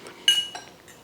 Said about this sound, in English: put it here on a little bit of a rocket, mix it nicely together